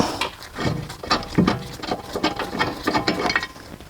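Quick ratcheting clicks from a hand ratchet loosening a lug bolt during a brake and rotor replacement on a Mercedes C300 4matic, close and in uneven bursts.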